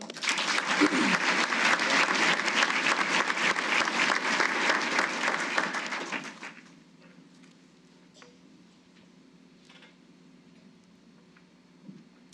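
Audience applause at the 2018 DLA annual awards ceremony after a team award: dense, loud clapping from a large hall for about six seconds, then stopping abruptly and leaving quiet room tone with a few faint stray sounds.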